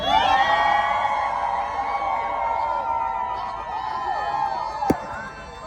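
Wedding guests shouting and cheering at a white wedding ceremony right after the couple is pronounced husband and wife, a loud sustained crowd roar with whoops and high yells that slowly fades.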